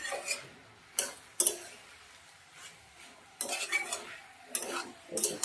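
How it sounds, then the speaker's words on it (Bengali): Vegetables and dried lote shutki fish stir-fried over raised gas heat in a pan, heard as intermittent scraping and clinking strokes of a spatula against the metal, several short bursts separated by quiet gaps. "এবার ভালো করে সব কিছু দিয়ে ভালো করে ভাজা ভাজা করে নেবো।"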